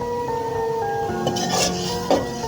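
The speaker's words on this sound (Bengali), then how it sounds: "মশলাটা কষানো শেষ, এর ভিতরে শুটকি দিয়ে দিলাম।" Dried fish is fried and stirred in a spiced paste in a pan, with a low sizzle under repeated scraping and clinking of a utensil against the pan.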